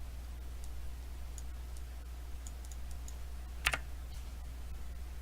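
A computer keyboard being typed on at a desk: sparse, light key clicks spaced irregularly over a low steady hum, with one sharper cluster of clicks partway through and no speech.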